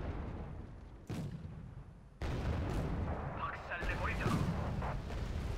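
Tank cannon fire in the wartime strategy game Wargame: Red Dragon, with sharp booming reports set among battle noise and someone talking over it.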